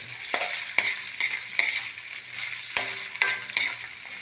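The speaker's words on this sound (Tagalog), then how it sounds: "Gisa-gisa nyo lang yan. Tuloy-tuloy lang sa pag-gisa." Meat sautéing in a pan for pancit bihon, a steady close sizzle broken by repeated sharp spatula scrapes and clacks against the pan, no talking.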